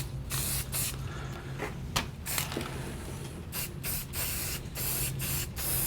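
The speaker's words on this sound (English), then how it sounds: "I'm going to spray it nice and light anyway" A spray can sprays paint on a sign in a series of short hissing bursts separated by brief pauses, close and steady, with a low hum underneath, outdoors on a patio in the rain.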